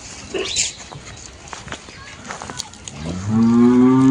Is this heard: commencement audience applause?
no